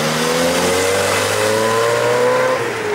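A classic car drives off at a night car meet in Białystok, a loud, steady engine note with rising tones as it accelerates away, no voices.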